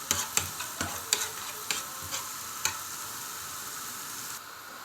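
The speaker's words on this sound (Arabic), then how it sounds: "وهنا حطيت التومه بتاعتي على النار، هشوحها زي التومه بتاعت الملوخيه" Garlic frying in a pan on the stove, a steady bright sizzle with sharp clicks and taps of stirring recurring through the first few seconds, then an even hiss on its own.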